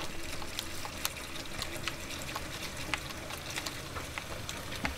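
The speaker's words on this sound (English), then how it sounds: "Now I can run all the water I want," Running water from a tap in Untitled Goose Game, a steady broadband splashing stream with small droplet spikes, continuous and fairly close throughout.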